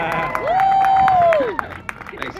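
A lone street performer cheers for himself with a single sustained whoop that rises, holds and falls, against a busy crowd background with sharp scattered knocks.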